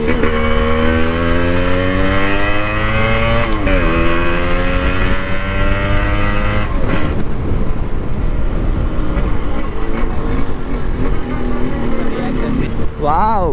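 Yamaha RX100 motorcycle engine revving hard while riding, a loud two-stroke buzz with rising and falling pitch sweeps, close and continuous throughout.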